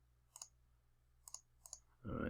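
Mouse clicks in Muse software, three brief double clicks spread out and close by, followed by a louder burst of broadband noise at the end.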